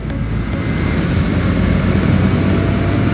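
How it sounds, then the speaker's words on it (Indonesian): A motorcycle with an aftermarket racing exhaust gives off a loud, steady, low rumbling drone that holds at constant intensity for about three seconds, close by and with no talking. "Kayak gitu knalpot racing"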